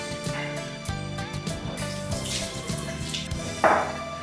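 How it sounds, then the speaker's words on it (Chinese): Thirty grams of rice are washed in water, with steady close sloshing and swishing, small splashes and gentle dripping for several seconds. "再来洗30克大米备用。"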